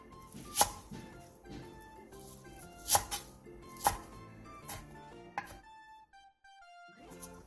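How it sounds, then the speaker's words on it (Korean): A knife chops a handful of chives into short 2 cm pieces on a cutting board, with several crisp, loud, close thwacks at an uneven pace, then lighter taps, over soft background music and no talk. "부추 한 줌을 2cm 정도 길이로 잘라주세요."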